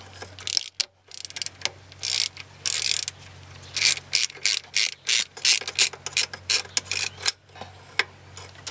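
A hand ratchet backs bolts out of a Ford engine, making quick loud bursts of pawl clicking in a steady rhythm, close up with short gaps between strokes.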